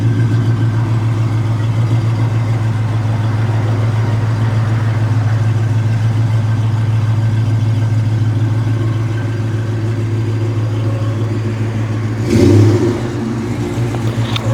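A supercharged 2010 Dodge Challenger R/T V8 rumbles at a steady, heavy idle close by, with a brief sharper rev burst near the end before settling back.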